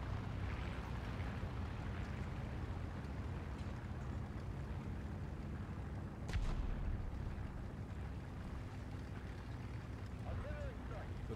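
Artillery strike in an online shooter match, a deep sustained rumble of explosions under steady low booming, with players talking over it.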